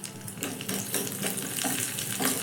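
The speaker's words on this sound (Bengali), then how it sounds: "এবার এই বাদাম আদা একটু নাড়াচাড়া করে ভেজে নিতে হবে।" Peanuts, small pieces of ginger and curry leaves fry in hot oil with cumin seeds in a pan for a chutney. A steady close sizzle runs throughout, with light stirring scrapes.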